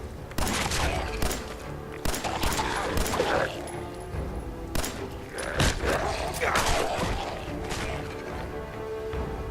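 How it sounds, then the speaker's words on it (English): Gunfire from a fight against feral ghouls in the video game Fallout 4, with loud repeated shots and crashing impacts bursting through the clip under game noise and a man's speech. "you gotta shoot them in the legs."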